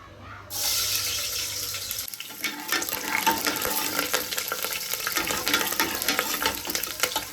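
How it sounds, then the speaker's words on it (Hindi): Freshly chopped onions drop into hot oil and set off a sudden loud sizzle, then keep frying with a steady crackle and the sound of stirring. "तेल हो गया है गरम। अब हम इसमें डाल देंगे ये प्याज जो मैंने अभी काटी थी।"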